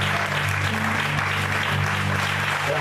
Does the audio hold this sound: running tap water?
no